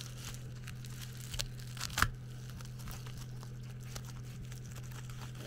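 Tearing open a small AliExpress parcel: faint rustling and crinkling of packaging with one sharper rip near the middle, over a steady low electrical hum in a quiet room.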